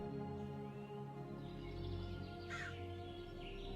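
A crow in the Minecraft video game caws, a harsh call standing out against a steady low background drone with no talking.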